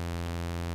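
Inverted sawtooth wave from a voltage-controlled oscillator on an ETI 4600 synthesiser, a steady, loud, buzzy tone with dense harmonics, held without change for under a second.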